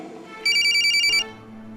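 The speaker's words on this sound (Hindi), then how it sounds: "लड़की तेरा फोन आया" Telephone ringing indoors: a single rapid electronic ring burst lasting under a second, loud and clear over quiet room noise.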